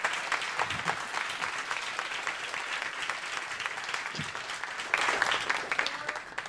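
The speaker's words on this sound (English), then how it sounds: "Please give a round of applause for our wonderful panel today." Sustained audience applause for a panel at the close of a radio news roundtable, a dense steady clatter of many hands that swells slightly louder near the end.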